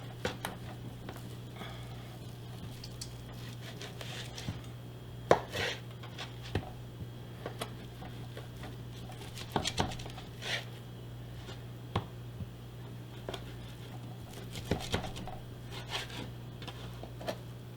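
A knife chops pasta salad ingredients into quarters on a board, giving scattered, sharp taps at an irregular pace over a low steady hum, with fairly faint cuts heard close by.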